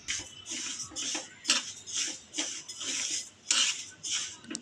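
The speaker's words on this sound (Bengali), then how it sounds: "ডালটাকে আমি একটু হালকা করে ভেজে নিচ্ছি" Mung dal being dry-roasted in a pan, a spoon scraping and stirring the lentils in regular rhythmic strokes, close and clear with a light metallic clatter.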